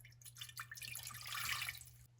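Water poured from a one-cup measure into a creamy coconut pudding mixture, a brief soft splashing trickle over about two seconds, close and fairly quiet with a steady low hum beneath.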